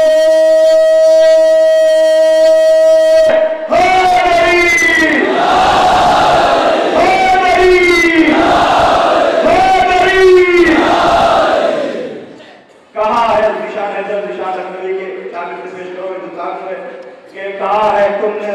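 A large crowd of mourners at a Shab-e-Bimar-e-Karbala majlis in 1436 raises loud slogans together, voices swelling in rhythmic unison bursts, then dropping briefly before a second chant with a steady harmonic drone.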